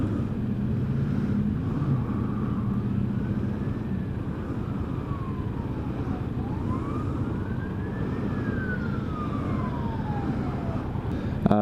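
A police car siren wails up and down in long sweeping cycles as it passes along a street, moderately loud over constant road and wind rumble from a motorcycle.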